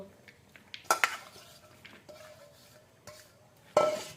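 Potatoes dropped into a metal pan and stirred with a utensil, a few sharp clanks and scrapes of metal against the pan separated by quiet gaps, close and fairly soft, with no talking.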